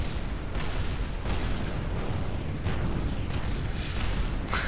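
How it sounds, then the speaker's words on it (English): Dense, continuous rumbling blasts from crashing craft in Kerbal Space Program, loud and overlapping without a break, with no voices. "Ah, so much explosions."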